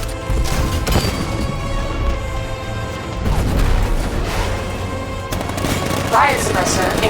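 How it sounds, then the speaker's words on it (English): Heavy gunfire and explosive blasts from a tank cannon in Batman: Arkham Knight, dense rapid bursts and booms sustained throughout, loud and close, with game sound effects layered over the barrage. "60mm cannon operational."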